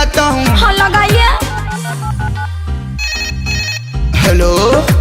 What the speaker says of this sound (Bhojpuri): अभी मैं फोन लगाता हूँ